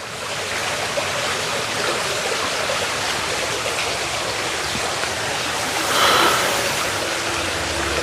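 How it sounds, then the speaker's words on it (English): Steady rushing water fills the clip inside Pleasley Vale Mills, a continuous broadband stream-like flow, loud and close, with a brief surge in intensity near the end. "all I can hear is just water"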